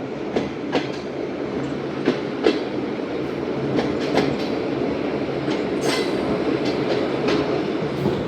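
The Karachi Express rolls along at speed with a continuous rumble and sharp, irregular clickety-clack of wheels over rail joints, heard close from on board with no voices.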